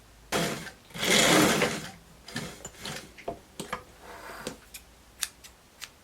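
Sewing machine stitching a dress seam, a sustained whirring run followed by several short bursts and sharp clicks, up close with no talk.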